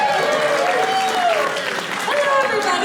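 Wedding guests applaud the matron of honor, a steady dense wash of clapping from a crowd, with a voice speaking over it.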